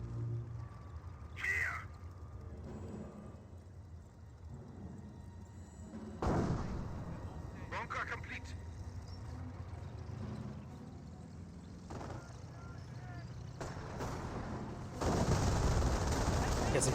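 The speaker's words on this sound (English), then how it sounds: "I hear Calliope barrage running on in." Calliope rocket barrage in the World War II strategy game Company of Heroes, a sustained roar of rapid booming impacts and crackling blasts that swells louder near the end, with no voices.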